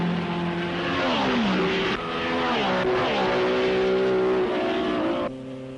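Race cars at the 1961 Belgian Grand Prix, with Jo Bonnier's Porsche running close to teammate Dan Gurney, roaring past in a continuous loud engine note that rises and falls in pitch as cars sweep by, with no speech.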